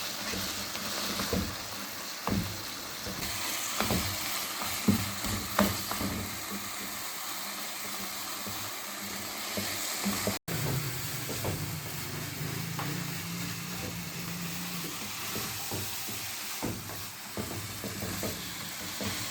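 Khoya being stirred into carrot halwa in a pan, with steady scraping and stirring strokes over a soft frying sizzle, close and continuous with no talking.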